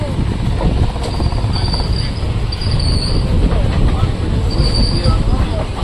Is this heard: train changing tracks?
yes